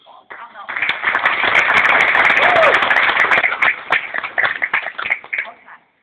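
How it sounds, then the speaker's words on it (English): A school audience at a National Honor Society award ceremony claps steadily for students, with dense applause swelling for several seconds before tapering into scattered claps. "I think they deserve another round of applause"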